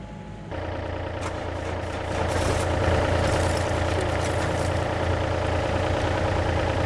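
A car recovered from a collapsed building after an earthquake starts up with a sudden rise in sound, then idles with a dense, steady, loud rumble that swells slightly after a couple of seconds.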